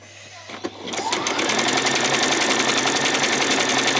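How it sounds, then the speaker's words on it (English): A sewing machine runs a zigzag stitch around the edge of a fabric peasant top, starting after a couple of clicks and settling into a steady, rapid mechanical chatter, loud and close, without talk. "I am going to just do a zigzag all the way around."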